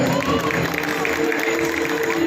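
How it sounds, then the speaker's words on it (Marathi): An audience applauds a children's dance performance at a park cultural event: a dense, steady wash of clapping mixed with crowd noise and a faint tonal hum underneath. "पेश केला तुमच्यासमोर. जोरदार टाळ्या."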